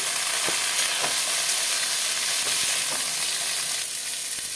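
Chopped vegetables and vegetable stems fry in a pan and get stirred, producing a steady sizzle broken by periodic scraping knocks of the stirring utensil, with no voices present.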